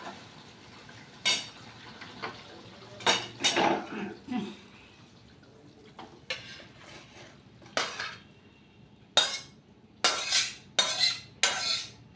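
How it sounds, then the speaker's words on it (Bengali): Cauliflower and potato curry being poured from a cooking pot onto a plate, a series of sharp metallic clanks and scrapes of spoon against pot and plate, separated by quiet pauses. "একটা পাত্র নিয়ে নিয়েছি, একটা থালা নিয়ে নিয়েছি, থালাটার মধ্যে ঢেলে নেব।"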